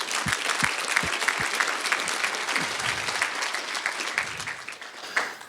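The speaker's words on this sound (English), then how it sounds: "So let's clap yourself right now." An audience claps for itself during a company founder's tour presentation, giving sustained, even applause with a few low thumps early on and no talking over it.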